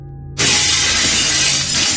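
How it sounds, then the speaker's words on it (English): A living room window shatters suddenly after a brief quiet hum, bursting into a loud, sustained crash of breaking glass that fills the space and tails off slightly at the end. "one of the living room windows shattered"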